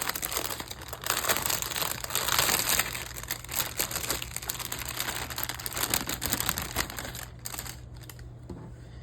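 Plastic packaging around diamond painting supplies is crinkled and torn open up close, in busy irregular crackling bursts that ease off toward the end.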